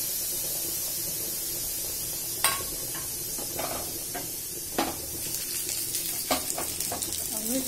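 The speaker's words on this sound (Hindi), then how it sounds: "सरसों तेल को बर्तन में गर्म होने के बाद मैं इसमें मिर्ची डालूंगी।" Chillies fry in hot mustard oil in a pot, a steady soft sizzle broken by scattered sharp crackles and pops, close by, with no speech.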